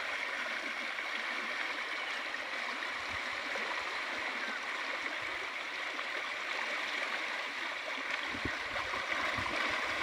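The Jayanti river, once dry, now flows in a broad, steady rush of water that fills the scene continuously at close to moderate distance, with faint low thumps beneath.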